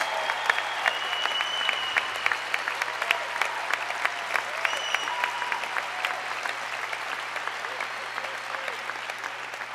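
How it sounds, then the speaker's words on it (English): A crowd at a basketball press conference bursts into sustained applause, dense steady clapping with sharp individual claps standing out over about ten seconds. "They're used to getting a standing ovation at this place."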